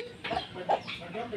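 Several short, soft clucks from a turkey, spaced irregularly and heard fairly close with no talk over them.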